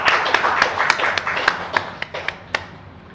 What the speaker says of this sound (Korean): 하나님께 영광의 박수 돌립시다